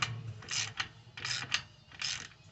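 A Cobalt ratchet tightens a nut and bolt with washers on a Harley-Davidson Road King, giving close, quiet bursts of rapid clicking in short, uneven strokes with brief pauses between.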